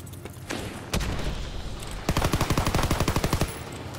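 Video game gunfire: scattered single shots and booms, then a rapid burst of automatic fire, loud and close.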